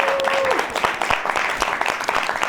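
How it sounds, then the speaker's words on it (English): A live audience at a political talk show applauds in a short burst of dense, close clapping, with a faint tone fading out at the start. "Give yourselves a round of applause."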